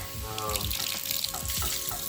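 Tap water running steadily into a sink, a continuous splashing stream with faint clatter, no voices.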